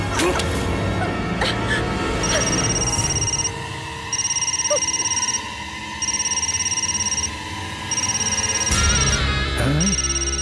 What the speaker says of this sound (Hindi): इसके बेटे का फोन है।